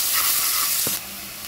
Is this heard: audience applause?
no